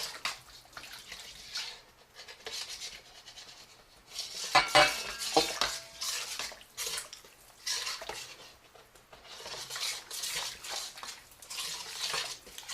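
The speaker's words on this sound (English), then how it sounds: "And then I will stir it, making sure that the paste is nice and smooth." A spoon scrapes and clinks in a bowl while flour paste for dinner roll dough is stirred smooth. The quiet, uneven scraping rises and falls in rhythm, with a brighter clatter near the middle and no talking.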